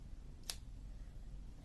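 Scissors make a single quick, crisp snip through crochet yarn, faint against a quiet low background hum.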